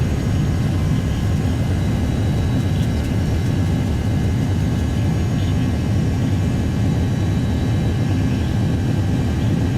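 Jet airliner taking off in the X-Plane 10 flight simulator, a loud, steady engine roar with a dense low rumble holding at constant level throughout, no voices.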